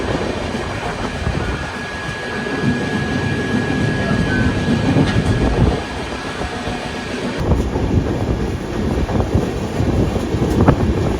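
Shri Ganganagar–Kochuveli Express rolling slowly into Anand Junction, a steady close rumble of the carriage with wind noise and rail clatter, continuous for the whole stretch without voices.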